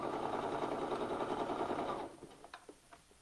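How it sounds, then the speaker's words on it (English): A home sewing machine stitches a knit neckband onto a top, a fast buzzing run of about two seconds that stops abruptly, followed by a few soft clicks and rustles of fabric. "And I'm just pulling slightly as I sew so that everything lays nice and smooth as it goes through the machine."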